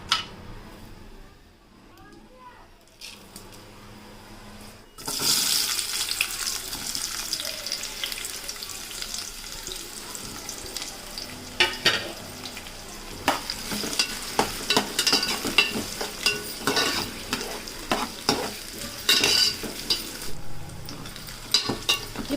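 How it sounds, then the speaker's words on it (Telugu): Onions, cumin and biryani spices fry in oil in a pan for gongura chicken. A quiet start gives way to a loud, steady sizzle with repeated scraping stirs and clinks against the pan, close up. "ప్యాన్ పెట్టుకొని అందులో కొద్దిగా ఆయిల్ యాడ్ చేసుకొని బిర్యానీ దినుసులు, ఉల్లిపాయలు వేసి ఫ్రై చేసుకోవాలి"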